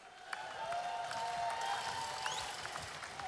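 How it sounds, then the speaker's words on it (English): An audience claps steadily for the commentary team at the Golden Shears 2014 open shearing competition, held in a tent. Applause stays even and fairly distant throughout, with a few brighter whistle-like tones on top. "Give them a big round of applause"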